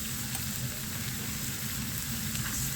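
Garlic sizzles in hot ghee in a pan, a steady, even frying hiss with fine crackle throughout, no voices over it.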